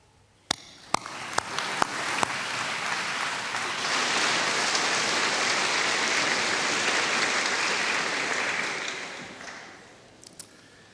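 An audience at a university graduation ceremony bursts into sustained applause that swells, holds steady for several seconds and then fades. A few sharp isolated claps come before and after, and it sounds like a large hall at a moderate distance.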